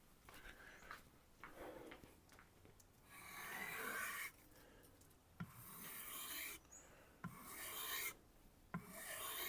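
A Choco Bocho kitchen knife scrapes back and forth across a sharpening stone in rhythmic raspy strokes, some long and sustained, others short, close and fairly quiet, with no voices.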